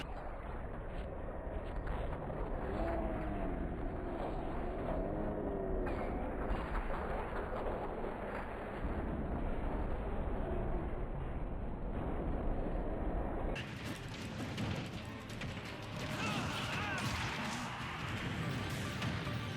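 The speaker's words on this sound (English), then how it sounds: "I guess the explosions are because of the subspace bombs" Subspace bomb explosions in Super Smash Bros Ultimate roar as a dense, continuous wall of rumbling blasts and crashing debris. It stays loud throughout and changes character about two-thirds of the way in, with no voices.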